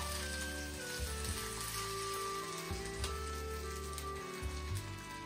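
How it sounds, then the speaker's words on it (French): Butter melts and sizzles in a hot frying pan while filet mignon with mushrooms is being prepared, giving a steady, soft crackling hiss with faint clinks and no talking. "Et voilà, le beurre est fondu. Je vais faire répartir dans toute la poêle."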